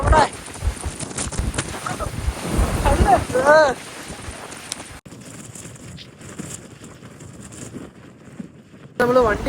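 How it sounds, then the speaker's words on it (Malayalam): Strong wind gusts on an off-road hilltop at Chathurangapara buffet a parked vehicle, roaring and rushing close to the microphone while people talk loudly over it, then the noise drops briefly before the gusts return. "നല്ല കാറ്റാട്ടോ"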